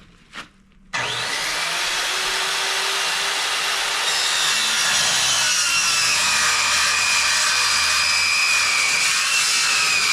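A Diablo Steel Demon saw blade cuts into steel inside a toy hauler, starting with a brief knock and then a loud, continuous high-pitched grinding whine that holds steady for the rest of the clip.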